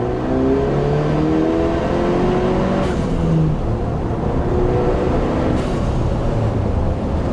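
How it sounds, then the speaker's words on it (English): A Ford Bronco engine accelerating hard at wide open throttle through the gears with a steady exhaust drone and a brief whooshing turbo blow-off valve release. "you can hear the turbo blow off valve"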